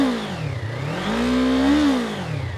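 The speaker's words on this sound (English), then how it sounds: "So rev it up through here." A Yamaha MT-03 motorcycle engine revs up and down close by, a throaty, slightly angry mid-range snarl that rises, dips, then climbs again and holds.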